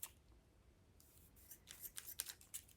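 Scissors snip through a piece of pointe shoe fabric in a quiet room, giving a few short, crisp cuts that come closer together toward the end.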